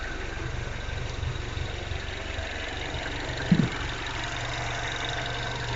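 A car engine idles steadily while warming up ahead of an oil change, a low, even rumble with a faint rhythmic throb and one brief knock partway through, close by and with no talk.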